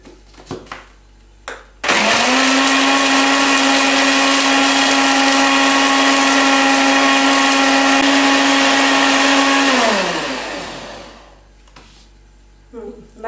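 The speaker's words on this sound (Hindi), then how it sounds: "और अब हम इसमें क्रश्ड आइस डालेंगे और इसको फिर से चर्न करेंगे।" A blender churns crushed ice into a chocolate almond float, starting abruptly after a few soft clicks, whirring loud and steady for about eight seconds, then winding down, with brief talk before and after.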